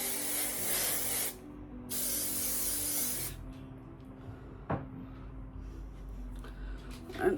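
Bed Head Masterpiece Massive Shine Strong hairspray is sprayed in two close, loud hissing bursts, followed by quieter rustling and handling noises.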